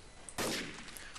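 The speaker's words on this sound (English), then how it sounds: "Why am I hearing gunshots?" A single sharp gunshot in Trouble in Terrorist Town, a sudden loud crack with a short decaying tail, heard alone without voices.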